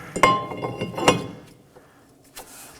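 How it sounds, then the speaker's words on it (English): Front brake rotor on a 2018-2024 Chevrolet Equinox 1.5L, slid onto the wheel hub: two sharp, close metallic clinks with brief ringing, a few lighter taps between them, then quiet and one soft knock near the end. "Now to install our rotor. I'm going to slide the rotor over."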